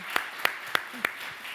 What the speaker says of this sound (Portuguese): Uma salva de palmas para a Catarina, por favor.